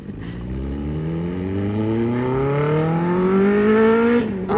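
Kawasaki ZX10R superbike fitted with an Arrow full-system exhaust, revving loudly up close, its pitch climbing steadily for about four seconds before cutting off abruptly.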